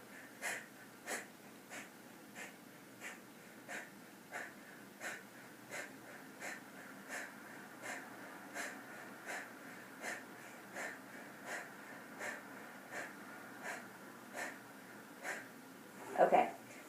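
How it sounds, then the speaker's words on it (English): Rapid yoga breath of fire: short, forceful nasal exhalations repeat at a steady, even rhythm, close and fairly quiet, ending with a louder snort-like breath. "So now we're going to do the breath of fire."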